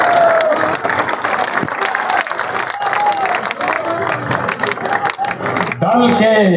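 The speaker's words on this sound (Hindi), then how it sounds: "जोरदार ताली बजाइए।" Crowd applause at a political gathering welcoming the new party president, loud and sustained clapping mixed with cheering, with a voice talking over it and some shouts near the end.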